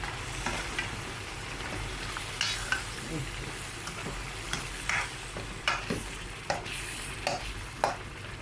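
Vegetables and meat fry in a pan under a steady sizzle while a spoon stirs with repeated scraping knocks at an uneven rhythm, close and moderately loud, without talking.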